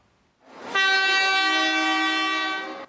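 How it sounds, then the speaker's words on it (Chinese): A train pulls into Jiji station in Nantou, sounding a loud, sustained horn for about two seconds, close and clear, with no voices. "火车驶过来"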